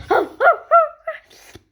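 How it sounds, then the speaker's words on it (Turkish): A small dog barks several times in quick succession, close by, with short yappy bursts and a whimpering tone. "Oo, tatlı köpek."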